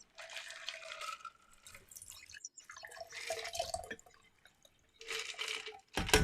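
A champagne cocktail is poured into a Collins glass in a few short bursts of splashing, fizzing liquid. The pouring is close and moderately quiet, with brief pauses between the pours.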